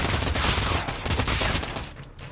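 Rapid gunfire bursts in the VR zombie shooter Pavlov VR, loud and dense, a fusillade of overlapping shots filling the short stretch before trailing off.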